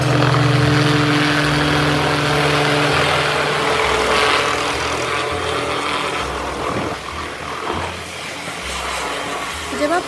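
A helicopter engine idling at a helipad on the Kedarnath route: a loud, steady roar with a low rhythmic throb, close by, holding constant before shifting slightly near the end.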